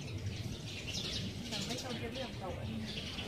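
Birds chirp and coo around their nests beside a riverside house in Ho Chi Minh City's District 12, faint and scattered beneath steady outdoor noise and a person talking.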